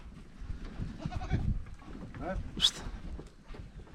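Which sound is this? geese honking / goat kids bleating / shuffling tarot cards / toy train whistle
goat kids bleating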